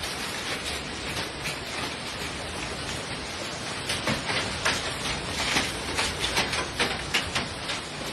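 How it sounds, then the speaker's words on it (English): Hail falls in a dense, hissing clatter like heavy rain on surfaces, with sharper rhythmic impacts growing in the second half and no voices. "Listen to the audio of the hail."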